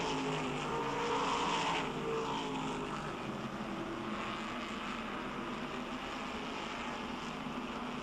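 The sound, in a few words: race cars racing on a track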